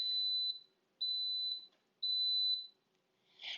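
An Instant Pot pressure cooker gives three short, clear electronic beeps at a steady, even pace in a quiet kitchen, with no talking.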